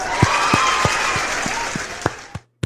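Applause breaks out as people clap for someone who got vaccinated, a sustained burst of many hands that stays steady and fairly loud, then tapers off and stops near the end.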